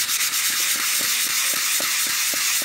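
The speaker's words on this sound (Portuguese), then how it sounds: "Eu estou passando uma lixa de número 120." Wood is sanded by hand with 120-grit sandpaper: loud, steady scratchy rubbing in a regular back-and-forth rhythm of strokes, close up and with no talking.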